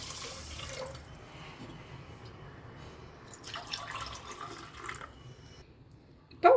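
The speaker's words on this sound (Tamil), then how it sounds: "இப்போ 1 டம்ளர் ஊற்றுறேன்." Coconut milk poured into a pressure cooker, a soft liquid trickle and splash with small dripping sounds in a quiet kitchen, swelling in the middle and ending on a sudden louder clatter.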